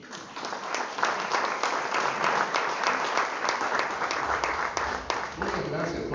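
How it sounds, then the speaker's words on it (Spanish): Steady, dense applause from an audience at a book presentation on toponyms in Taxco, loud and continuous throughout with no pauses. "y que le demos un aplauso."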